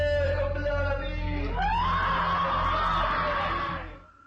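A possessed woman screams and roars, a harsh, sustained, pitch-rising shriek that swells loud and close, then cuts off abruptly near the end, with a group chanting faintly beneath.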